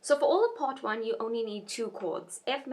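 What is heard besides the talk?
No everyday noises stand out.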